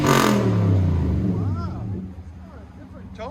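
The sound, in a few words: 2019 Nissan Titan 5.6L V8 revving with Stillen cat-back exhaust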